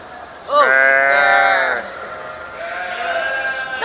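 A young sheep bleats loudly nearby with a long wavering call, followed by a softer second bleat.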